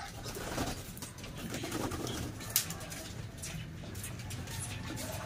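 Racing pigeons coo in a loft, a steady low murmur of overlapping calls with a brief sharp knock partway through, amid faint background noise.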